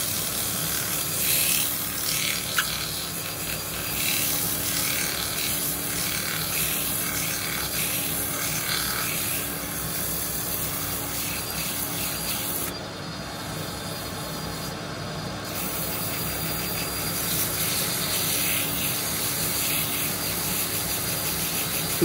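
Sanding a turned wooden bowl on a lathe with 180-grit abrasive, with a dust extractor running: a steady, continuous rubbing hiss over motor hum, even and unbroken throughout, with a brief dip in the middle.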